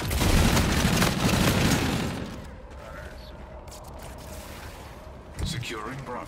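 Gunfire and explosions in the game Call of Duty: Infinite Warfare, a loud dense burst of shots and booms in the first two seconds that fades to a quieter rumble, with one more brief impact near the end.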